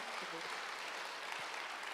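Congregation applauding during a Wednesday church worship service, a steady dense wash of clapping filling the room for a couple of seconds, with faint voices underneath.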